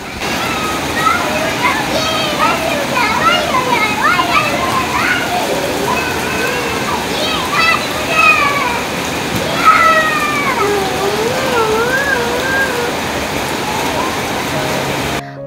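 A rain shower with children bathing and playing in it, a steady loud wash of falling water under continuous high-pitched children's shouts, squeals and chatter close by.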